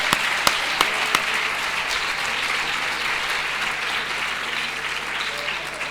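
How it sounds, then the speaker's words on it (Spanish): An audience at a cardiopulmonary resuscitation conference in Guadalajara gives steady, moderately loud applause for Patri, a nurse, with a few sharper claps near the start. "yo quiero pedir un aplauso para quien es realmente la protagonista, que es su mujer, que es Patri, que es una enfermera"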